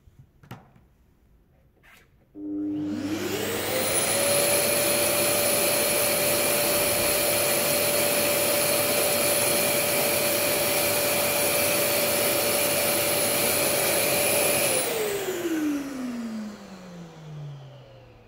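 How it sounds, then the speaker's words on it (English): A Festool CTL 26 E or Parkside PPWD 30 A1 shop vacuum with hose attached starts up with a rising whine, runs loudly and steadily with a high-pitched hum, then switches off and winds down. "Let's measure the sound levels the two machines produce, only with the vacuum hoses attached"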